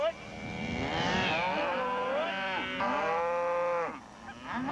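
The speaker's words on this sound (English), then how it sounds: "This fresh hay will help feed 80 to 100 head of cattle." Cattle in a drought-hit pasture moo loudly and close by in long, overlapping calls that rise and fall, with a couple of animals calling over one another.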